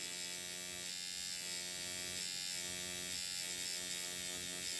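A Dragonhawk EX2 tattoo machine set to a shorter throw runs in a fast, steady electric buzz with a constant hum, close to the microphone and unbroken.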